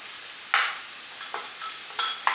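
Flour being stirred or whisked into a casserole pan for a chicken and apricot casserole: four short scraping, rustling bursts spaced unevenly, close and moderately loud, with no talking.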